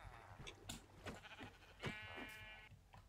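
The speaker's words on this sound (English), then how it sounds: "There's a sheep in it." A sheep in the Minecraft video game bleats in a few short, wavering cries over a low background hum, with no voices.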